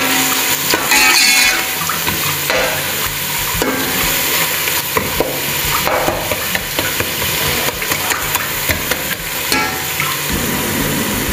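Whole garam masala and other spices frying in a pan for vegetable rice, a loud close sizzle with stirring scrapes and clinks throughout, no talk.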